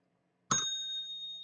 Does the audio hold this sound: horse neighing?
no